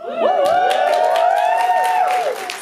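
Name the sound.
audience cheering at a campus comedy show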